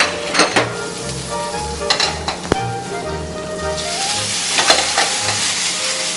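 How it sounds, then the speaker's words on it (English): Mushrooms sizzle and fry in brown butter in a pan, with a spatula scraping and clinking against the metal in irregular strokes over a steady close crackle. "And then we put now these mushroom inside to get all the flavor out."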